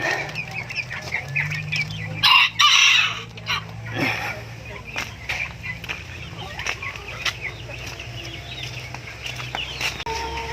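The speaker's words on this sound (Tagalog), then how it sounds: "So, dito naman tayo sa breeding pen ng ating mga Rhode Island Red." Rhode Island Red hens and a rooster in a breeding pen cluck and murmur throughout, with a brief burst of wing flapping near the start, close by, while someone talks over them.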